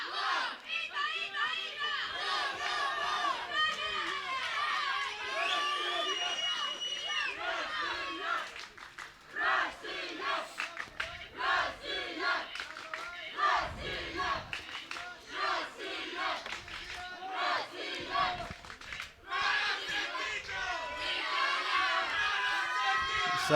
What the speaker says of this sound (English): So you can hear loads of cheering from the crowds here.